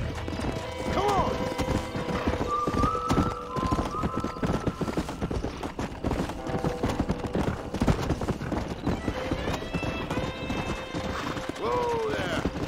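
A horse gallops with quick, loud hoof clip-clops and neighs a few times in Red Dead Redemption, the whinnies standing out over the steady rhythmic hoofbeats while characters talk alongside.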